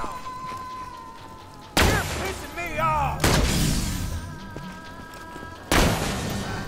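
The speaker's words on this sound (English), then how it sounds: "We got some more people shooting at me in the distance." Gunfire sounds from enemies in Borderlands 2, with several sharp, loud bursts and booms separated by quieter stretches, and a player talking faintly between them.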